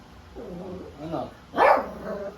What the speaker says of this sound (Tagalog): Ang kakain naman ay mga baby dogs dahil tumatahol na to.